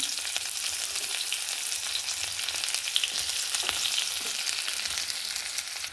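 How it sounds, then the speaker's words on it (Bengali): Chopped onion frying in hot mustard oil tempered with cumin and bay leaf, a dense, steady sizzle heard close up for several seconds with faint stirring and no voices. "এবার এখানে সর্ষের তেল আরও দিয়ে গরম হয়ে গেছে, জিরে আর তেজপাতা ফোড়ন দিয়ে দিলাম। ফোড়নটা হয়ে গেছে, পেঁয়াজ কুচি দিয়ে দিলাম।"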